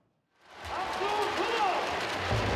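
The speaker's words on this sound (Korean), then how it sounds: "가족, 친구와 나란히 앉아 열띤 응원을 보내는 야구 팬들" Baseball fans cheer in a packed stadium as a Korean pro baseball season opens with every seat open, a loud steady crowd roar building quickly and holding, with voices mixed through it.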